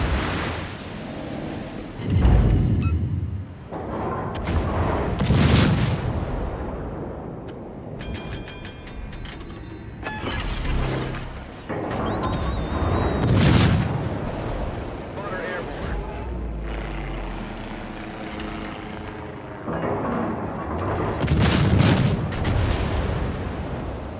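Warship guns firing in the naval game World of Warships during a clan battle, with several heavy booming salvos spaced through the clip over rushing sea and wind noise, and voice lines and radio chatter in between.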